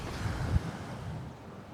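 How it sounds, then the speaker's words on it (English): Ocean surf breaking on a Cayo Santa Maria beach, a brief low rumbling wash with a swell near the start that fades, mixed with wind noise on the microphone. "These waves are no problem really, but I've seen them much bigger."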